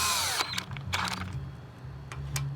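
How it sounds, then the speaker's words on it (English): A power drill driving screws during an RV power awning motor replacement whirs in a few short bursts, close by, with brief pauses between each run. "you can go ahead with your drill and go ahead and bring them in just a little bit"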